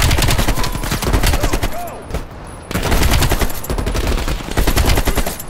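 Rapid gunfire in the video game Call of Duty Cold War bursts out in loud, dense automatic volleys that pause briefly before resuming, with a voice speaking beneath.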